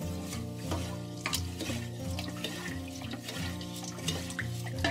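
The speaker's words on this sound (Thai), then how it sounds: "แล้วเราก็คนเนา" A milk and water mixture for Thai chicken rice is stirred steadily with soft scraping and liquid swishing, the stirring sounds close but partly covered by background music.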